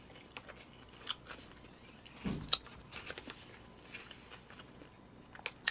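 Quiet chewing of kimbap from a GS convenience store lunchbox, soft sporadic crunches and mouth sounds close to the mic, with one louder bite burst in the middle.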